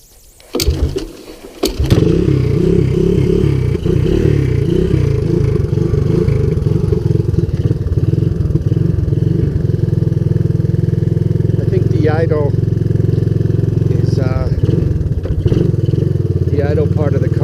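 A Honda ATC200S three-wheeler with its choke on cranks over and catches, then runs at a loud, close, steady idle with a burbling low exhaust note, with a few brief throttle blips and bits of speech over the engine.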